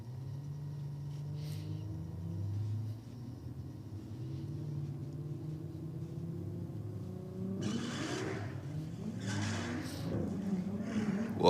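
A Ford Falcon ute at a drag race idles with a low engine rumble, then revs hard in several throttle stabs and accelerates away, the roar rising and growing louder toward the end.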